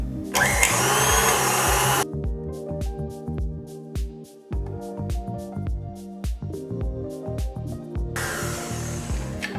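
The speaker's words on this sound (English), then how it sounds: "I'm gonna whisk this on high for 5 full minutes." A stand mixer whisks butter on high for buttercream, giving a loud, steady whirring hum in two stretches, at the start and the end, with quieter tonal sound in between.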